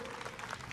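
Quiet, steady applause from an audience at an honouring ceremony during a live devotional chowki event in a housing society, heard as a brief, distant wash of clapping at an even level with no voices.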